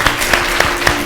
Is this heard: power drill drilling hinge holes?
no